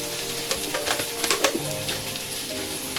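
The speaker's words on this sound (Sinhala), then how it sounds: "රම්ප කරපිංචා, ඉඟුරු ටිකක්, සුදු ලුණු ටිකක් හොඳට ටෙම්පරාදුවට දාලා" Pandan leaves, curry leaves, ginger and garlic crackle in hot oil as they are tempered for a fish-roe dish: a steady, close sizzle with scattered sharp pops and spatters throughout.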